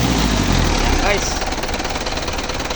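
A close, steady engine idles with a dense, vibrating rumble throughout, continuous and loud, while someone talks briefly over it.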